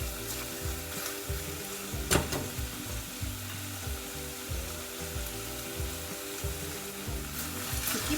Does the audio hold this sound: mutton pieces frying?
yes